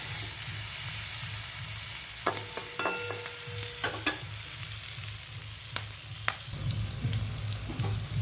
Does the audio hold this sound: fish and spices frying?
yes